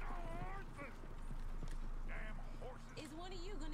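Horse hooves clip-clopping in Red Dead Redemption 2, a steady trotting rhythm mixed under game ambience, music and other voices, with tonal calls and chatter layered over the hoofbeats.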